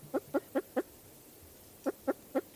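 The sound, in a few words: spruce grouse soft cooing clucking call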